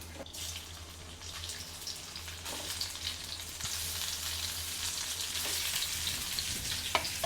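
Onions frying into crisp beresta in a pan for Bengali home cooking, a steady close sizzle with occasional stirring and clatter throughout.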